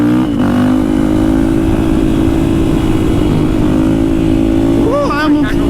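A motorcycle engine revs loud and close throughout a stand-up wheelie, its steady drone rising in pitch near the end, with voices talking over it.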